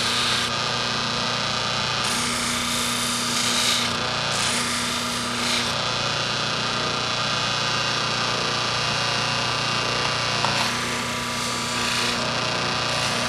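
A farrier's hoof knife ground against a spinning sharpening wheel gives a steady, loud abrasive rasp with a constant motor hum, the scraping tone shifting as the blade is tilted and moved along the wheel.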